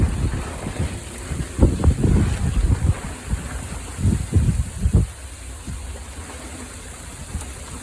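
Strong wind buffets and roars in bursts on a sailboat in rain, gusting hard for several seconds before easing to a lighter, steadier rush with occasional thumps.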